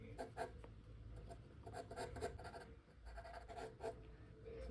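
Pencil on paper sketching eyes on a face drawing, soft scratchy strokes in quick repeated bursts, close and quiet, with no speech.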